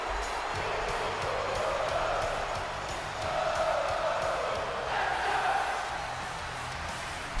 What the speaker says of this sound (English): And listen to this crowd, ladies and gentlemen.